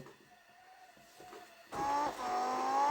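Car engine in a car-crash driving game, a quiet idle hum that jumps into a loud, close rev partway through and keeps climbing, dipping once before pushing up again.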